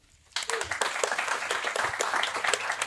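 A comedy club audience at a live stand-up show in Berlin breaks into dense, loud applause after a short quiet moment, the clapping sustained and steady through to the end.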